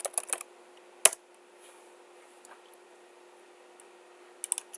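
Typing on a computer keyboard to log in to a Windows machine: a quick cluster of key clicks at the start, a sharp single tap near one second, then quiet before a final short burst of keystrokes, close and fairly faint.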